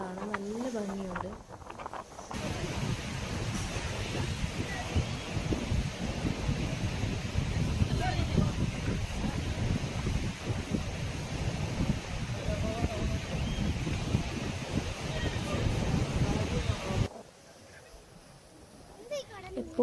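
Strong wind and sea waves at the blowhole beach in Salalah, Oman, a steady loud roar of gusts and surf lasting most of the clip, with a person talking over it at the start.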